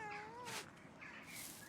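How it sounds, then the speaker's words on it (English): A cat in the medieval monastery garden of the game Pentiment gives two clear meows in quick succession, soft and close over a faint ambient bed. "I hear a cat."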